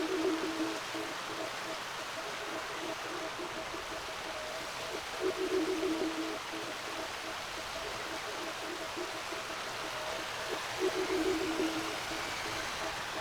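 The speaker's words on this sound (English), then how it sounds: "This is river noise" Steady broadband rushing of flowing water fills the scene, with faint periodic tonal hums recurring every few seconds in the background.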